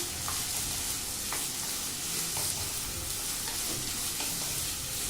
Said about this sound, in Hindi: इसलिए प्याज फ्राई कर लेते हैं।